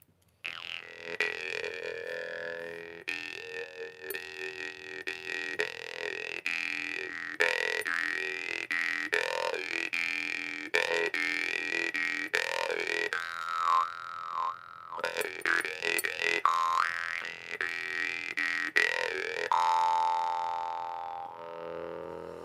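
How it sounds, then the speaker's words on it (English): A big bass jaw harp, an enormous Holotrope or Megatron 137 style instrument, twangs continuously with a deep droning fundamental while the player's mouth reshapes bright overtone melodies in rhythmic pulses, close and loud throughout. "that's a big bass harp. Both the Holotrope and the Megatron 137 are just enormous jaw harps."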